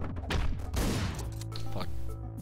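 Shotgun blasts in the Hotline Miami video game: a couple of sharp, punchy shots close together near the start, over steady pulsing game music.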